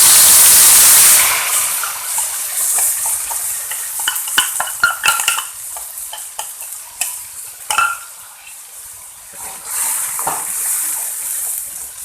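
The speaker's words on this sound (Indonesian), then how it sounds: "Saya mau langsung saja tumis bumbu halusnya." Ground spice paste for Betawi lontong sayur hits hot oil with a loud initial sizzle, then settles into steady frying crackle broken by clinks and scrapes of a spatula stirring the pan, with no talking.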